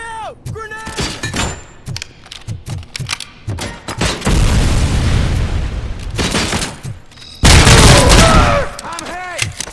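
A grenade detonates in the RoboCop: Rogue City video game, a loud booming blast amid bursts of gunfire and several thuds. Shouting voices break in around the explosions.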